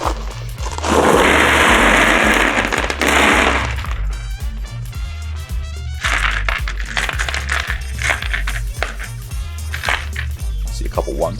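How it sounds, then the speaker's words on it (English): Dice rolled in a large Warhammer 40k tabletop battle between Chaos and Ork armies: a loud burst of clattering and rattling for a few seconds, followed by a background music bed and scattered smaller clicks. "If each one of these dice represents a potential skull taken for Corn"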